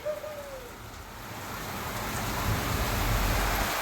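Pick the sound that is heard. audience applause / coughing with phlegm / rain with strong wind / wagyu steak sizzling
rain with strong wind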